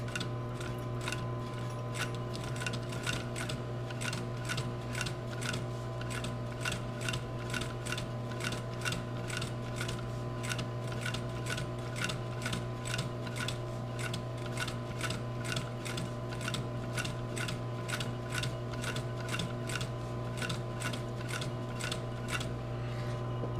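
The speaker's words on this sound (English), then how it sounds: "I will sew about 15 or 20 stitches, and then I'll stop and I'll just refocus" Hand stitching through leather while making an unlined leather bag, faint steady ticking pulls of needle and thread repeating in an even rhythm over a constant low hum, quiet and close, with no talking.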